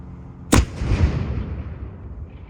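A black powder artillery cannon fires once during a historic fort demonstration, a sharp loud blast followed by a rolling, fading rumble with no talk.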